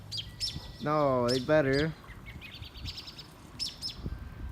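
Small birds chirp in quick, high tweets scattered across the moment, fairly close, with someone speaking briefly over them in the middle.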